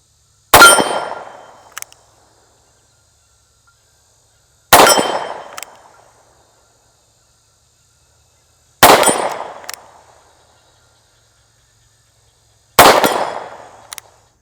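Rock Island Armory Model 200 revolver shots ringing off steel plates hung at 10 to 40 yards: four sharp, loud reports spaced about four seconds apart, each with a metallic clang and short decay, alone with no talk.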